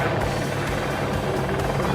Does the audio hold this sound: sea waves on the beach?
no